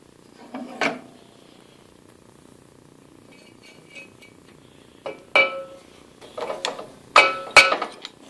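A drill press table is lowered and adjusted in a workshop. Sparse, close mechanical clicks and ratcheting bursts are separated by quiet stretches and cluster more densely toward the end.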